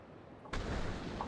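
Cannon artillery fire in the fantasy strategy game Myth II: Soulblighter, in a battle with dwarves and archers: one sudden booming blast that breaks in after a quieter stretch, followed by a loud rumbling, crackling roar.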